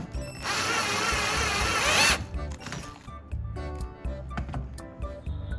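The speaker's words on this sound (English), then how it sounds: "Next, I'll screw a bolt into the hole." A drill drives a bolt into pieces of wood being joined, whirring loudly and steadily for about two seconds, then giving way to quieter intermittent clicks and mechanical clatter.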